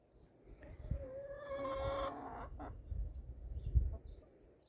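Chickens cluck and murmur close by, with a drawn-out squawk early on and scattered soft clucks and rustling afterward.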